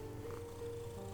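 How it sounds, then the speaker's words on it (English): A pet cat purrs loudly and steadily close by, a continuous low rumbling drone with no voices over it, indoors during a quiet drawing session. "If you can hear a weird rumbling, that's just my kitty purring really loudly."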